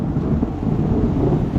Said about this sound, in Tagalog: kasi nga nag-uulan nga eh